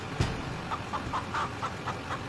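A chicken clucks several times in a row in short, evenly spaced bursts. It is moderately loud and close over a low, steady background.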